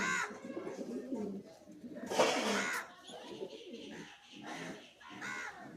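A female pigeon coos in a few soft, close, repeated phrases, with a person talking over and between the calls.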